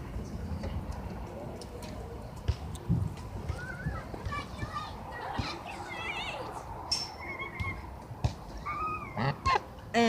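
A pet hybrid goose grazing outdoors gives several short honks and calls scattered through a busy background, with children and adults talking nearby throughout.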